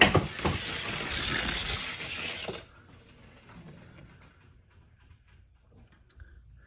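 A start gate mechanism driven by an actuator, with no magnet fitted, runs with a loud, busy mechanical clatter for a couple of seconds, then drops to faint, quiet rattling.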